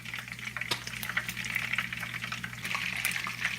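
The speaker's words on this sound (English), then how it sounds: "I'm going to take them out while the other ones continue to fry." Plantain slices fry in hot oil, a steady close crackling sizzle with small spitting pops throughout, no voices.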